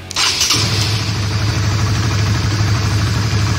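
A Honda CB150R motorcycle with a manual starter and a keyless modification cranks briefly, fires up and settles straight into a steady, loud, close idle with an even low throb. No voices.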